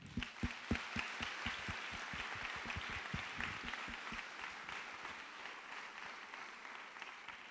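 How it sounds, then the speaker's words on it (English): Applause from an audience at a college first-year assembly, many hands clapping in a dense steady patter that starts with sharp, distinct claps and settles into a softer, continuous wash, heard from a distance in a large hall. "A round of applause for them, please."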